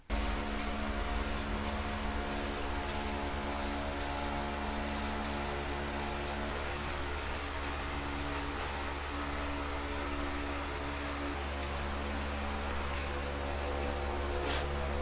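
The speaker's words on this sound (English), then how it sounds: "we're gonna lay down some primer" A spray can lays primer onto a part of a Honda Shadow VT500 motorcycle in repeated short hissing bursts with brief gaps between them. The spraying is close and loud and carries on with no talk.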